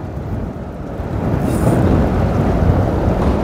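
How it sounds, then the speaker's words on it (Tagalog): Strong wind buffets the microphone in a steady, loud rumbling roar during an outdoor road bicycle race, rising slightly in force partway through with no voices. "Lakas ng hangin, kita mo sa mga damit nila oh."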